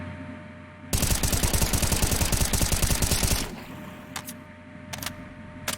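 Automatic gunfire in Counter-Strike: Global Offensive, one long loud rattling burst of rapid shots that stops abruptly, followed by a few faint scattered clicks and knocks.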